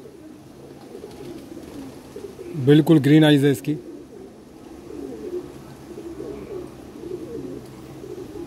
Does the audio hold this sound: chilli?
no